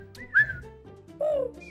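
A person tries to whistle, producing two short, breathy, wavering whistle tones with gaps between them, close and fairly quiet.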